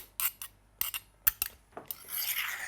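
Spoon scraping down a bowl of lime-dressed taco filling, a series of short, close scrapes and taps ending in a longer soft rasping stir.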